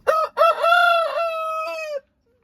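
Rooster named French Fry crowing once up close, a loud drawn-out cock-a-doodle-doo with two short opening notes, then quiet.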